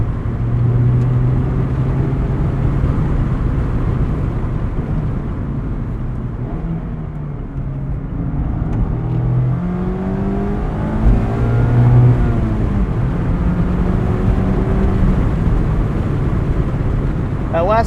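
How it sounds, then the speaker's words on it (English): A 2023 Mazda MX-5 Miata Grand Touring revs hard toward redline while being driven, its engine note climbing in rising sweeps through the gears with brief dips between pulls, loud and close from inside the cabin. "That last 500 RPM is pretty wild in this car."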